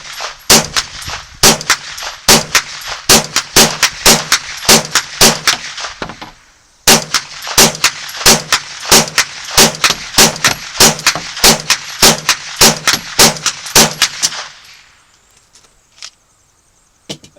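A 9mm carbine, a Kel Tec 2000 or Ruger PC, fires close and loud in rapid semi-automatic strings of sharp shots with ringing clangs. A short pause falls midway, and a quiet tail follows.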